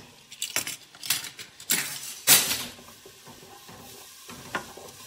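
Onions and pre-minced garlic sautéing in a pot, with a soft sizzle under repeated stirring scrapes and a few metallic clinks of a utensil against the rim, fairly close.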